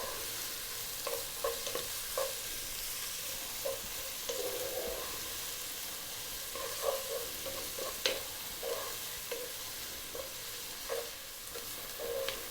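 A vegetable soup base of onion and spices sizzles over high heat while it is stirred. A soft, steady frying hiss sits under occasional spoon scrapes and taps, fairly quiet and close.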